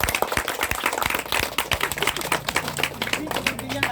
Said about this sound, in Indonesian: Beri tepuk tangan yang gemuruh.